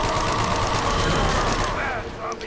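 Rapid gunfire from a weapon in Black Ops Zombies, Call of the Dead map, a dense continuous burst of shots lasting about two seconds before cutting off.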